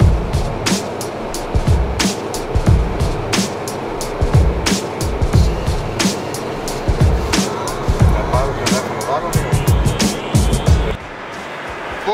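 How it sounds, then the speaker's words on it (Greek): Athens city traffic rumbles past in repeated loud surges of engine and road noise, with sharp clattering bursts throughout, ending with a quieter stretch. "Μια βαβούρα, μια φασαρία, κόρνες, φορτηγά"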